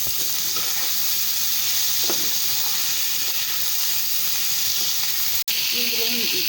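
Boiled vegetables tipped into a hot pan for vegetable noodles, setting off a loud, steady sizzle and hiss that lasts throughout, with a brief break near the end.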